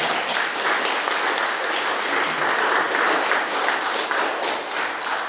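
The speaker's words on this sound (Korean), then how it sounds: "박수 한번 쳐주세요" Steady applause from a lecture audience, even and continuous throughout at moderate loudness, with no talk over it.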